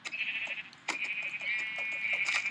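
Sheep bleat in a survival video game, several overlapping wavering calls running continuously and close, with faint clicks beneath.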